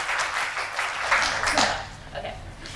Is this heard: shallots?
no